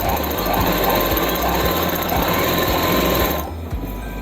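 Sewing machine stitching a pocket onto palazzo pants, a steady close, loud mechanical whir with rapid needle clatter running continuously before cutting off near the end.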